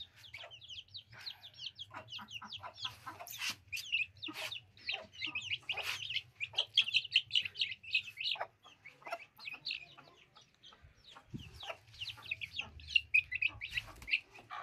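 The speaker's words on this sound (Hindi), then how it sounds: "सबसे पहले हम मुर्गी को पकड़ के रखते हैं" Several chickens in a cage cluck and squawk continuously nearby, overlapping in busy bursts, with occasional rustling and a brief thump as they are caught.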